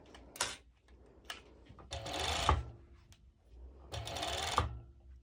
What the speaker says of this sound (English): So I'm going now to my serger, And like I said, I'm adding elastic.